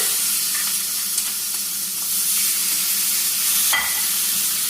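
Ghee-brushed steaks searing on a Cinder indoor grill give off a steady, close sizzle and hiss with a few faint clicks layered on top.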